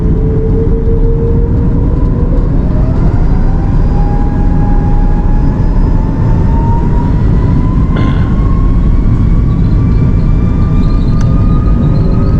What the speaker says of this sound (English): as we rotated off the runway at Antigua